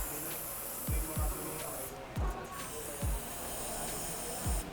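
Contact cleaner sprayed onto motorcycle handlebar switches: a continuous loud aerosol hiss runs throughout, punctuated by several short, deep thumping knocks at irregular intervals.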